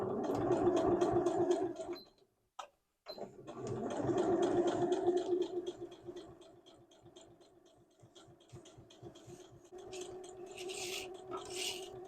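A sewing machine stitches fabric in close, rapid mechanical runs. It stops briefly near the two-second mark, then resumes in bursts that vary in loudness.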